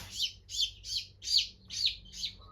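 A small chick in a brooder near a heater gives a series of about seven evenly spaced, high-pitched peeping chirps, close and fairly soft, with nothing else heard.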